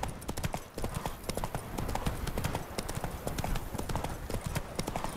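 Horse hooves gallop in a steady, continuous clip-clop rhythm across a game world in The Witcher 3 on PS4, loud and close throughout with no talk over them.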